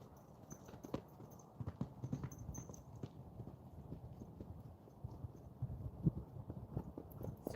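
Horse hooves clip-clop at a relaxed walk on firm ground, an irregular series of soft, fairly close thuds, fainter in places, with only a quiet background and no talk.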